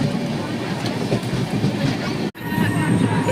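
A train runs steadily nearby, with a continuous low rumble and rattle of railway carriages throughout and a brief dip near the end, recorded on a trip toward Ayodhya in light fog.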